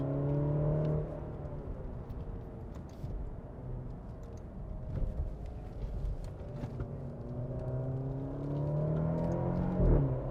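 A Maserati Grecale SUV with a 2-litre mild-hybrid engine accelerates on the road, a rising engine and exhaust drone climbing in pitch across several gear changes, heard from inside the cabin.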